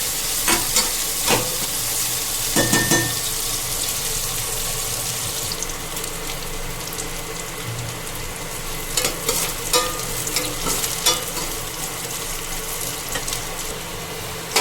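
Onions fry in oil in a pan until golden brown, a steady close sizzle broken by repeated scraping stirs and clinks of the spoon, with no talk.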